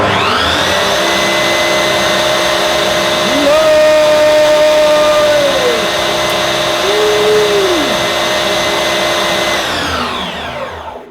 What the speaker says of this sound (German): Alles ist aufgebaut und die Säge wird zum ersten Mal angemacht.